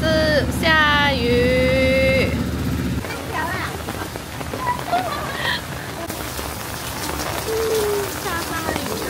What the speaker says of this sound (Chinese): 下大雨